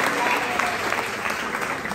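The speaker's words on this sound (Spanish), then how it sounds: "Le damos fuerte aplauso." Strong, steady applause from a Catholic Mass congregation fills the whole two seconds, a dense continuous wash of many hands clapping with no break.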